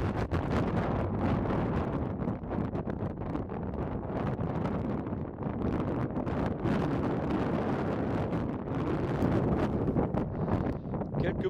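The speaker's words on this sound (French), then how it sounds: "Il y a un vent aujourd'hui, c'est la folie." Strong gusty wind on a mountain ridge in the French Alps buffets the microphone in a continuous roaring rumble, loud and unbroken throughout.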